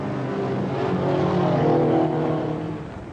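Stock cars banger racing on an oval track, a steady, continuous roar of several engines that swells toward the middle and eases off at the end, with no voices over it.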